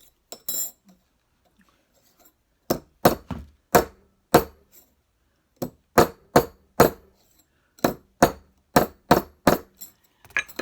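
Sharp hammer strikes on a wood-carving tool, first a few scattered hits, then steady rhythmic taps close up, with no talking.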